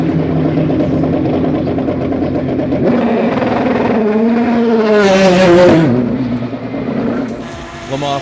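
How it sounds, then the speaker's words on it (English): A Le Mans Prototype race car engine on track, heard as a loud, close engine drone that climbs and falls in pitch as it passes, with a brief hissing burst near the peak before it fades and returns. "Le Mans Prototype. Racing neck and neck alongside the others"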